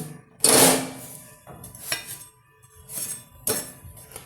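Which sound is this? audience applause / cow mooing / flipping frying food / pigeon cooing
flipping frying food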